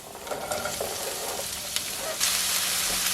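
Chopped ginger, garlic cloves and onions fry in hot oil with green cardamom, a continuous close sizzle with scraping stirs, growing louder near the end as more goes into the pan.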